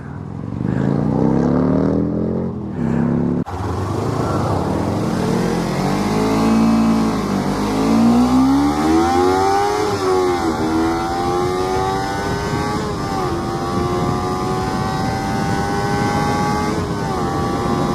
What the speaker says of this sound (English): Uphill, this bike doesn't go that fucking fast.